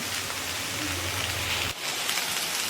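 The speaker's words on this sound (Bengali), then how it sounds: "আজকে এতই বৃষ্টি, শুধু আজকে বৃষ্টি বলে নয়, কাল থেকেই বলছি বৃষ্টি হচ্ছে প্রায় 2 দিন ধরে।" Heavy rain that has fallen for two days pours down in a dense, even hiss, steady and close, with a faint low hum underneath in the first part.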